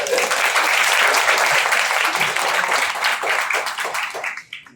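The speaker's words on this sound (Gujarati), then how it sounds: "તો સર માટે ખાસ કરીને તાળીઓ દોસ્તો" Loud, dense applause from a crowd in a classroom Guru Purnima teachers' felicitation, sustained for several seconds before thinning out and fading at the end.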